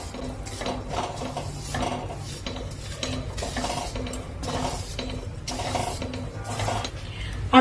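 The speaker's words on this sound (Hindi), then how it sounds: "इसको अब हम अपनी जो सीड्स वाली प्लेट है उसमें ही निकाल लेते हैं जिसमें हमने सीड्स निकाले थे।" Roasted coconut scraped from a kadhai into a plate while making sugar-free dry fruit laddoos, giving repeated close scraping and clinking of a spatula against metal under a steady low background hum, with no talk.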